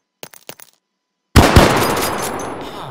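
After a few faint clicks and a brief silence, a decoy grenade in the BlockFront WW2 Minecraft mod suddenly bursts into loud, rattling fake gunfire that continues as a dense, crackling volley.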